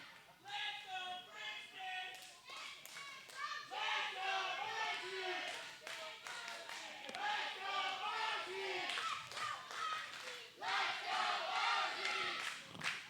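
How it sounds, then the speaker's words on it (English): Wrestling fans in an arena cheer and shout in waves, a lively crowd roar with scattered claps and yells, while a commentator talks over it. "The majority of the fans here definitely cheering the Peruvian Prince"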